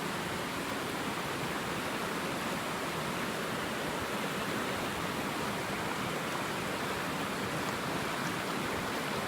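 Steady rushing water fills the whole stretch, a broad continuous roar like a fast river flowing close by, with no voices.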